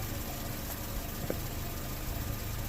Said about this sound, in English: I left the engine running for a little bit.